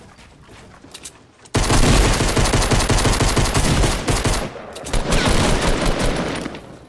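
Shotgun and automatic weapon fire in a video game battle, a loud sustained volley of rapid shots that breaks briefly and then resumes, close and dominating with no talk.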